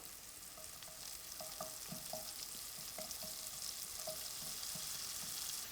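Roughly chopped ingredients fry in a hot pan for Aberdeen Angus beef tacos at a show cooking demonstration, giving a steady sizzle with scattered pops and stirring clatter, close and continuous, with no voices.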